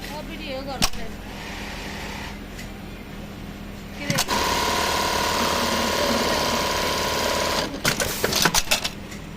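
A Brother RH-8920 buttonhole sewing machine stitching in a workshop, a fast, steady mechanical whirring run lasting several seconds, bracketed by sharp clicks and clunks, with a voice talking quietly in the background.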